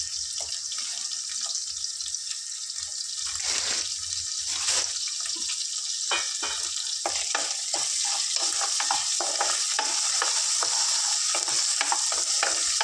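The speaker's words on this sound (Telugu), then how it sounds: "బొమ్మడీలు చక్కగా ఫ్రై అయ్యాయి" Small bommidayi fish frying in oil with salt, garlic paste and turmeric in a pan for a tomato curry: a continuous close sizzle broken by repeated scraping stirs.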